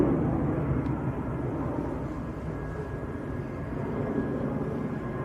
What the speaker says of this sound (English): Certainly sounds to a pack a punch, them A321s, don't they?